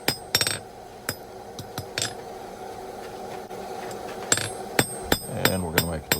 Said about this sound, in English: hit it, turn it a quarter turn, hit it again